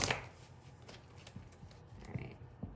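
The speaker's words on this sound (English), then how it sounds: "Let's do one more shuffle." Tarot cards being shuffled by hand, a soft papery riffling and slapping that runs through the whole stretch with a few sharper flicks near the end, close and fairly quiet.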